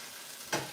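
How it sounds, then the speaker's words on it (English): Chopped onions and peppers sizzle in a pan while a silicone spoon stirs them, giving a brief, close hiss of frying with a soft scrape of stirring near the end. "we're gonna saute all the veggies for 3 or 4 minutes"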